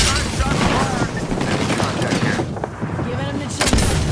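Dense gunfire in Apex Legends: rapid weapon shots and bursts pile up almost without pause, loud and close over a continuous rumble, while players talk through it.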